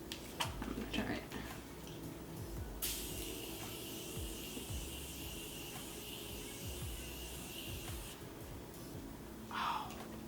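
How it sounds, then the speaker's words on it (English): Morphe Continuous Setting Spray misting onto a face in one long, steady hiss lasting several seconds, close to the mic, after soft handling clicks and before a brief rustle. "I'm going to spray my face."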